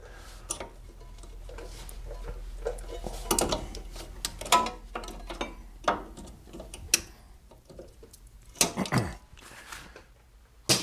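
An ABS wire clamp is undone and pushed off a brake line bracket during a front brake job: scattered faint clicks, ticks and small metallic clatters at irregular intervals, close but quiet.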